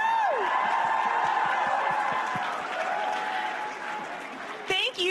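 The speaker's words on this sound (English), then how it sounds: "Let's give them another round of applause," Crowd applauding and cheering for musicians at an Ontario NDP political rally in Brampton, a broad steady wash of clapping with scattered whoops that holds for several seconds, then a brief bump of louder noise near the end.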